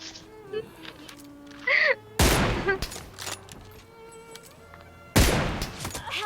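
Several bursts of gunfire ring out in a shooting video game, loud sharp volleys separated by quieter stretches holding game sound effects.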